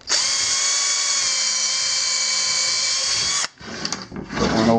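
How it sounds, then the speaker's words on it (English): A power drill bores screw holes for a stop block, whining at a steady high pitch for about three seconds before stopping, followed by brief handling clatter. "I'll go ahead and drill a couple of holes over here for the screw to go into."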